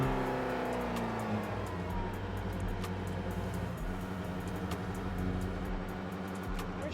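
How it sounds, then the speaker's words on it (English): A Porsche 963 RSP, a street-legal Le Mans hypercar, accelerates hard with a loud, rising engine note, then holds a sustained high-pitched roar under steady throttle. "it was back into another blast of that wonderful acceleration"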